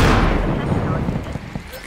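Gunfire and explosions crowd an ultra-realistic armored-truck heist video game. A loud burst opens and decays, followed by a rumbling, crackling barrage of shots that keeps going for two seconds.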